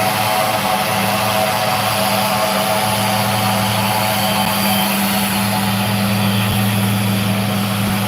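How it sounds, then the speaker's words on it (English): Jet aircraft making a slow low pass at an airshow, a loud sustained engine roar with a steady low hum and hissing upper wash holding level throughout, no voices over it. "Jet's coming in real slow for you."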